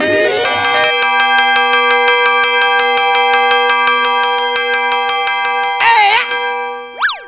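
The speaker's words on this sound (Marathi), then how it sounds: "काय घंटी वाजाडतो रे?" A bell rings in a rapid steady series of bright metallic strikes for several seconds, loud and close, followed by a warbling tone and a rising boing-like sweep, as a comedy sound effect.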